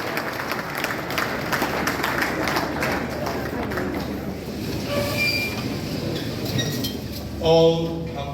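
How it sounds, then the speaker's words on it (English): Applause at a Freemasons gathering in Nigeria, a dense rumbling patter of many hands filling the room, continuous and moderately loud, with a brief louder burst near the end. "Applause, brethren, applause."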